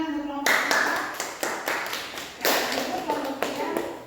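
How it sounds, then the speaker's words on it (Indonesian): A class claps for a presenting group, with a series of sharp, uneven hand claps in irregular bursts over a few seconds. The sound is close and moderately loud, with light room noise between the claps. "tepuk tangan untuk kelompok kita"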